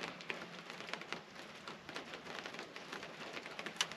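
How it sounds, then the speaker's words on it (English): Rain falls on Lake Wimico in Florida, a faint, steady patter of scattered drops with occasional sharper ticks. "Well, here comes the rain."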